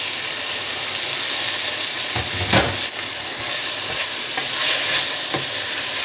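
Tomatoes and onions frying together in a pan for egg onion bhurji, a steady close sizzle with scraping stir strokes and a few louder clatters of the spoon against the pan.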